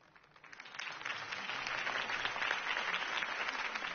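Crowd applause swells after a mayoral campaign speech in the Batman: The Telltale Series game, rising from quiet into sustained, even clapping and cheering that holds steady to the end.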